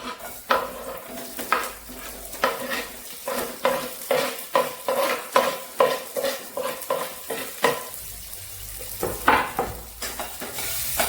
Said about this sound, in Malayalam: ഇനി ഇത് സവാള മാത്രം ഒന്ന് വാറ്റിയെടുക്കും